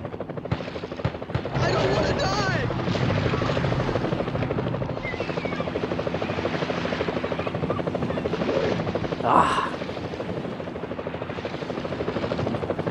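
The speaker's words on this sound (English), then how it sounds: "I can't even target the helicopter" A helicopter's rotor in the video game Jaws Unleashed thrums loudly and steadily overhead, a constant chopping drone with a brief sharp burst partway through.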